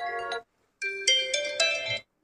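A ringtone plays on an Oppo F25 Pro 5G phone, a bright synthetic melody of sustained tones, one short phrase, a brief pause, then a longer rising phrase, heard alone and close.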